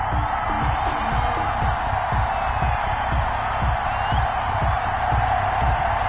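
A stadium crowd cheers at a pro football game between the Atlanta Falcons and the Washington football team at FedEx Field in a PlayStation 4 video game, a dense continuous roar that stays loud and steady throughout.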